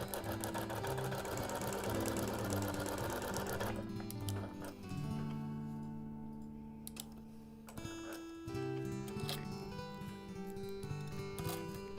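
A sewing machine quilting a wholecloth baby quilt, its rapid mechanical stitching chatter running steadily and close, briefly slowing midway before resuming at full speed.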